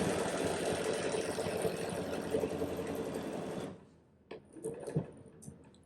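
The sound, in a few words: sewing machine stitching a quilted flower motif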